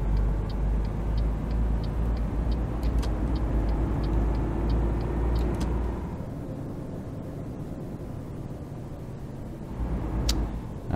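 A Scania truck in Euro Truck Simulator 2 accelerates along the road. Its engine drones as a loud, steady rumble with faint ticking on top, then the pitch and load drop halfway as it shifts and eases off before building again.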